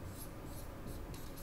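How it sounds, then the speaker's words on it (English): Marker or chalk scratches across a classroom board in a few short strokes, fairly faint and close, with no talking. "So let me write these down."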